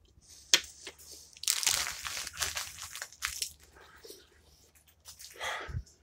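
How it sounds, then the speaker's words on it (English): Mini M&Ms and almonds from a 2018 U.S. MRE (southwest beef and black beans meal) crunched in the mouth: loud close bursts of crisp chewing, irregular and separated by quiet pauses, with faint mouth noises and no talk. "those mini M&Ms give it a nice crunchy texture along with the almonds"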